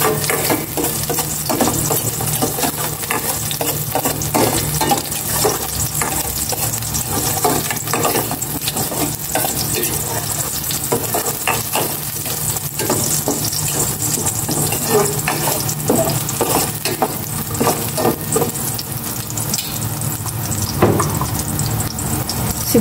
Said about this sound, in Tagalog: Konting mantika lang yung ating nilagay. Ilagay ko na itong bawang.